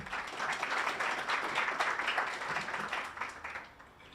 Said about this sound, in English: have a hand of applause once again to all the winners of those categories